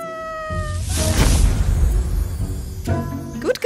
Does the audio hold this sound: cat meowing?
yes